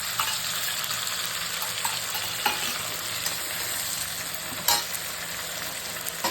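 Turmeric and mustard paste sizzling in hot oil in a pan, a steady bright frying hiss with occasional stirring scrapes and clinks.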